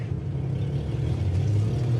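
A 1953 Chevy Bel Air engine idles steadily, a low, even rumble heard close with no other sound over it.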